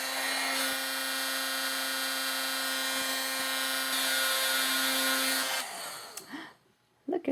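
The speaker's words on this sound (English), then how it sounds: "So this is going to be a little loud. I'm just going to quickly emboss it." A heat tool melting Stampin' Up embossing powder blows a loud, steady high whirring hiss for about five and a half seconds, then cuts off and the motor winds down into quiet with a few small knocks.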